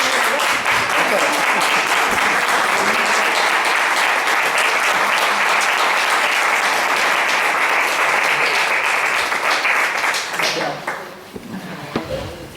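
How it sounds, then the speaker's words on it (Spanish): An audience at a comic book presentation applauds for Miguel, a loud, steady wash of many hands clapping for about ten seconds before it thins out to a few scattered claps. "Esos aplausos para Miguel."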